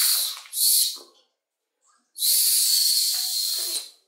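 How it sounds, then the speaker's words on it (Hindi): A toy whistle blown in three breathy, hissing blasts: two short ones close together, a pause, then a longer sustained blow, loud and close with no talk. "ये निकला एक सीटी निकल गई है यार, ये देख सकते हो पोंगा"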